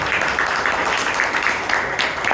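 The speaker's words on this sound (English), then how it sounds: "please give them, these 3, a huge round of applause" An audience at a Bangalore Toastmasters club meeting gives a sustained round of applause, thick continuous clapping from many people filling the room without pause.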